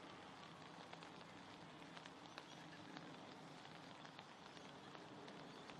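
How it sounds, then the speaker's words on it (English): Steady rain pours down on an outdoor gridiron field during a women's State of Origin match between New South Wales and Western Australia, a dense, even hiss that holds unbroken throughout. "the rain coming down again is not going to make things easy"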